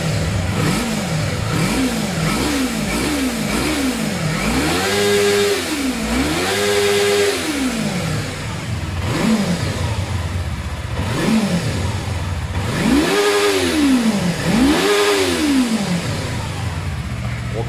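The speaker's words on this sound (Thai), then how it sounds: "เดี๋ยวฟังเสียงเครื่องยนต์เลย" A 2016 Yamaha R3 motorcycle engine revving repeatedly from idle, with quick blips followed by longer, higher rising and falling revs, loud and close with no talk.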